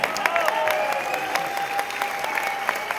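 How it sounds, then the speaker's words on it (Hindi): A crowd at a Kangen water business seminar claps and whistles, with sharp clap bursts over a steady bed of applause and drawn-out whistle tones riding across it. "ये तालियां और ये सीटी"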